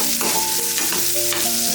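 Stuffed ridge gourd bhaji frying in a pan, a steady loud sizzle with scraping stir strokes and faint clinks of the spoon against the pan, with no voices.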